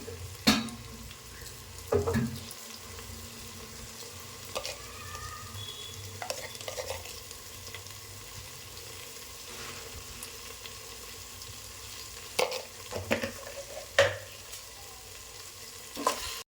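Onions frying in a pan as part of a home-cooked chicken and bagara rice meal: a low continuous sizzle with sporadic clinks and scrapes of a spoon against the pan, close up and with no talking.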